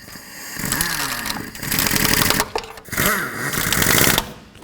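Tool tightening exhaust heat shield bolts on a 2005-2010 Pontiac G6 after an exhaust manifold replacement, giving loud, rattling mechanical bursts with rising and falling whirring pitch, broken by brief pauses.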